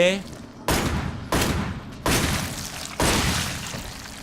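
Four heavy, booming bursts of gunfire in the video game Resident Evil 7: Not a Hero, each loud and sustained before fading, with no talking.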